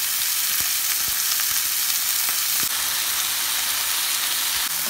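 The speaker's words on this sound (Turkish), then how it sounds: "Kızmış tavama etimi ilave ediyorum." Meat sizzling in a hot pan of olive oil, a continuous bright crackling hiss with scattered sharp pops throughout, fairly close and without talk.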